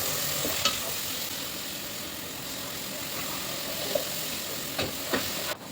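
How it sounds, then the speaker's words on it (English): Spices with Kashmiri chilli fry in a pan with a soft, steady sizzle, punctuated by a few light clicks and scrapes of stirring close by. "Cook the spices for a minute."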